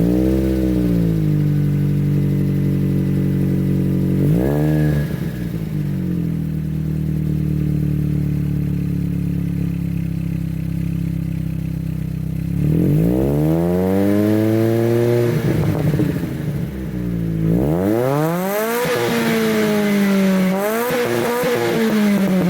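A 2004 Ford Focus SVT engine idles, then is revved in several rising and falling sweeps, with a long blip in the middle and sharper, harder revs near the end, close and loud with no talking.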